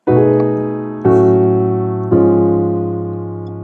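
Three sustained gospel piano chords, each struck firmly and left to ring and decay before the next, about one second apart.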